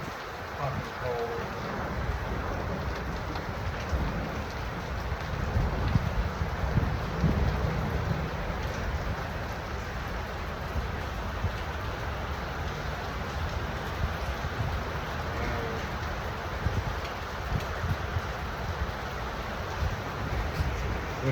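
Steady rain pours during a thunderstorm outdoors, a dense continuous hiss with low rumbling wind underneath and faint voices, holding an even level throughout.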